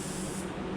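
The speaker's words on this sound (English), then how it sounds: "I'm going to be spraying upside down" A paint spray gun with a gravity-feed cup, held upside down, sprays paint during smart repair of a car's front wing and bumper: a steady, close, loud hiss of atomised air that lasts under a second with no voices.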